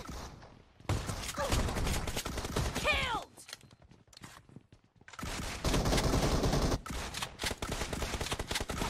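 DBS double-barrel shotgun blasts in PUBG Mobile, loud bursts of fire in two clusters split by a quieter gap with a reload, close and harsh with brief speech mixed in.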